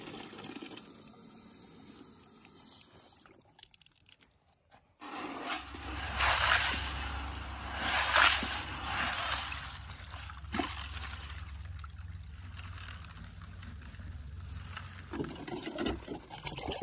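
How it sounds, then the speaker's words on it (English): Stones for seeding a concrete landing are washed with water: a faint trickle first, a brief near-silence, then a fuller rushing, splashing flow that swells and eases over about ten seconds before tapering off. "I want to seed the top with these stones, so first I give them a thorough washing."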